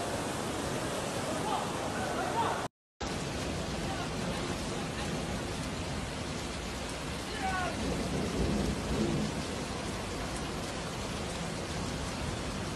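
Heavy torrential rain pours down in Madinah, Saudi Arabia, a dense continuous roar that briefly cuts out for a moment early on, then resumes at full strength with faint low rumbles.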